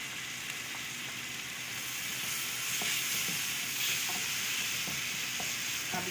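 Minced meat joins tomatoes frying in a pan, making a steady close sizzle broken by scraping spoon strokes and small knocks as the mixture is stirred.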